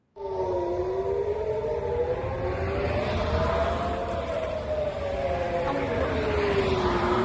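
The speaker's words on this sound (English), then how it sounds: "this one has sirens too" Air raid sirens wail during an Iranian ballistic missile attack, a continuous rising and falling tone heard at a distance over a rumbling outdoor background, steady and unbroken throughout.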